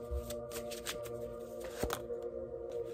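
A deck of reading cards being shuffled close by, soft riffling flicks and taps over a low steady hum, quiet and intermittent.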